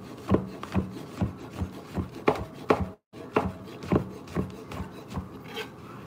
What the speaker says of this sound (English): I'm gonna cut that in half lengthwise, and then I'm gonna slice thinly